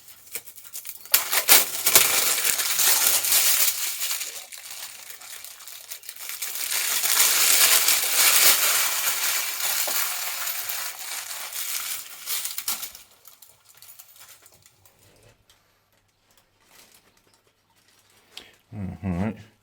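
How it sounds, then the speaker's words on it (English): Plastic packaging is pulled and crinkled off parts of a DIY workbench, with loud rustling and crumpling bursts close by, tapering into quieter handling and a soft thump near the end. "let's get these bits out of their plastic"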